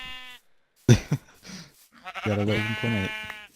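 Sheep in a Minecraft-style video game let out two wavering bleats near the end, the second longer, preceded by a short burst of human talk and some quieter game sounds.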